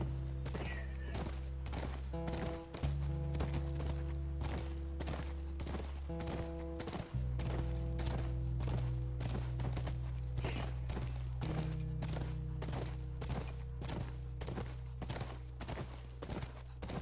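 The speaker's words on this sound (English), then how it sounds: "Sure, that's your horse, Tommy" Horse hooves clip-clop in a steady, even walking rhythm in The Last of Us, a continuous quiet pattern over a low sustained game music drone.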